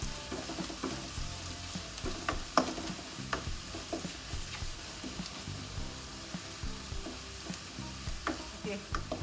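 Yam masala with turmeric powder stirred in a hot pan, a steady sizzle under repeated rhythmic spatula scrapes and taps against the pan, close and fairly loud.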